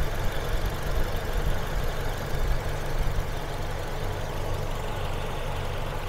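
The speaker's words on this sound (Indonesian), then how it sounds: "Mesin senyap teman-teman, ini bensin ya." The petrol engine of a 2014 Toyota Innova G manual idles quietly and steadily, a smooth low rumble with no talk over it.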